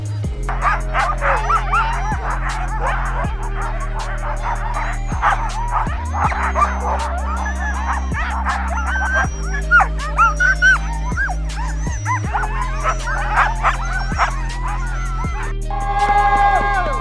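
Sled dogs in Greenland bark and yip in a busy, excited chorus close by, with people talking nearby.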